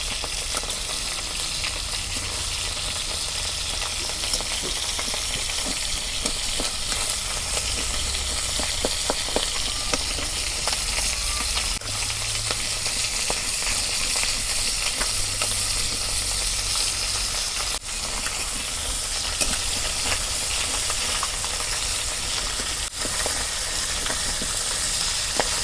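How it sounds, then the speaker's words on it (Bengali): Fish fries in fully heated oil on a clay village stove and is turned from one side to the other. A steady, loud sizzle and crackle continues throughout with occasional stirring clicks and no talking. "এক পিঠ ভাজা হচ্ছে, আর এক পিঠ ভাজা দিকে উল্টে দিই।"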